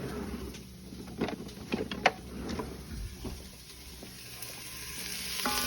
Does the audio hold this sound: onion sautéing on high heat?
yes